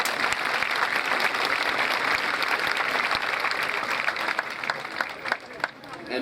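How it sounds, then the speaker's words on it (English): A high school graduation audience applauds the teachers, a broad, sustained wave of clapping from a large crowd that loosens into scattered claps near the end. "why don't we just give them a round of applause for all they've done at the school"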